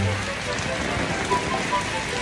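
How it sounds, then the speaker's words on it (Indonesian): Rain falling in a village street, a dense steady patter on surrounding surfaces, close and even throughout, with a voice briefly audible beneath it. "Hujan-hujan guys."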